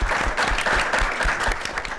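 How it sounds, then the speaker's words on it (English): A brief burst of audience applause for presenters at the close of a conference session, dense and steady clapping from a seated crowd. "please join me in applauding our presenters"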